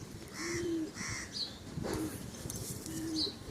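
Triple-barred Sira Madras pigeons coo nearby in soft, repeated rolling calls about once a second, with a few higher chirps between them and no voices over them.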